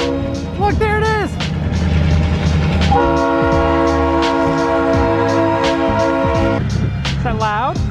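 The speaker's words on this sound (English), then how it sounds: "There's a train, Elena." A train rumbles past with rhythmic clattering wheels and a loud, sustained multi-tone horn blast, while people's voices chatter over the noise.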